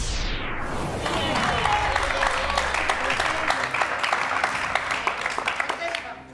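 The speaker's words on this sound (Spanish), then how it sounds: "Bueno, aplaudimos a las declaraciones." A television studio audience applauds on a talk show, a full, steady wash of clapping that rises after a descending swoosh and holds strong for several seconds, with a voice faintly underneath.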